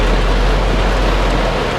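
Rain falling steadily on a Daihatsu Ayla stuck in a traffic jam in Cibadak, heard from inside as a dense, continuous hiss with a low rumble underneath.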